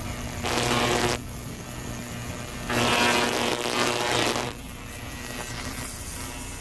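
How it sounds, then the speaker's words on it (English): A carburetor cleaning machine runs with a steady mechanical hum throughout, with bursts of louder hissing and buzzing that swell up and die back down. "While I'm waiting on the carburetor to clean here, you can hear it in the background running"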